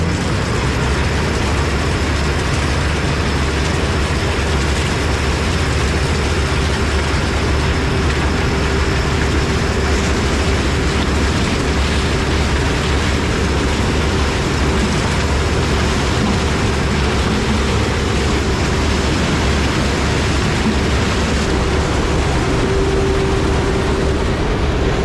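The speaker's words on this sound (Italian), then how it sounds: "adesso inizierà a trebbiare da questo punto qui il campo di mais che abbiamo vicino all'agriturismo" A combine harvester threshes a corn field beside a farmhouse, its heavy engine droning loud and steady with a constant mechanical whir and rumble throughout, no pauses.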